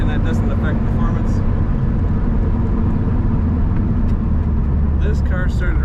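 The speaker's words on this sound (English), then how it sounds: "This car started right up and idled great" A 1936 Chevrolet Master Coupe engine runs and idles in a constant, loud low rumble, with faint brief voice-like bursts near the start and end.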